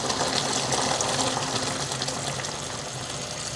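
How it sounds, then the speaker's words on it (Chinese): Chicken broth pours into a pot of curry with a continuous gushing, splashing hiss that starts strong and eases off slightly toward the end. No one speaks. "然后我们再加一些鸡汤进去"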